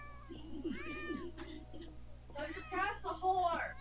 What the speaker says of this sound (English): my cat is meowing like crazy today